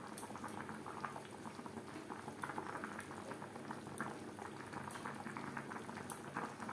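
Rohu fish curry gravy with potatoes bubbles at a low, steady boil in a pot, a continuous soft burbling close by with no talking.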